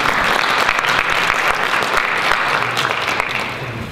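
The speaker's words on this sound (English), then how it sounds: "round of applause to our friends at the Mass Mutual" Audience at a morning meeting in the MassMutual Center in Springfield claps in a steady, dense round of applause that holds loud throughout and tapers slightly at the end.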